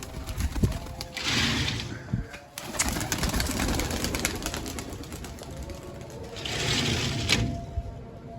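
Pigeons coo in soft repeated bursts close by, with rustling and scattered knocks in the background and two breathy swells of sound.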